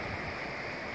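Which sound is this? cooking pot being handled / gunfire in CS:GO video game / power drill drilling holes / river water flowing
river water flowing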